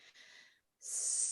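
One short sneeze, a breathy intake followed by a brief pause and then a sharp, hissing burst of air, fairly quiet and close.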